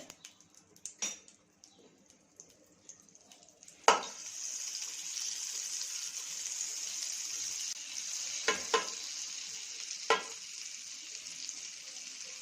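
Oil and a spoonful of butter sizzle steadily in a hot pan, a continuous bright hiss with a few sharp clinks and stirring knocks, close and alone with no voices.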